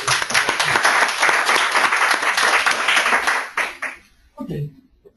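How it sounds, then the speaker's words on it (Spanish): An audience at a coaching session applauds steadily for about four seconds, a dense wash of clapping that fades out, followed by a brief low murmur of voices. "Un aplauso."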